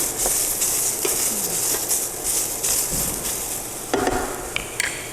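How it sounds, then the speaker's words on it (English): Spaghetti stir-fry with peppers is stirred in a hot pan, giving a steady close sizzle and scraping, with a few sharper clinks of the utensil near the end. "Let's keep stirring those in. We got more pepper to put in there."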